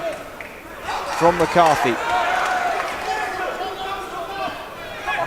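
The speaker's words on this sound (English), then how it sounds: "this crowd at York Hall responding to the good work" Boxing crowd at York Hall during a Southern Area super-welterweight title fight, a swelling murmur of approval and cheers rising after punches land, steady hall ambience under a commentator's voice.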